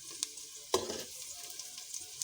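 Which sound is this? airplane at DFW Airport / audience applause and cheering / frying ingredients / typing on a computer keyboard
frying ingredients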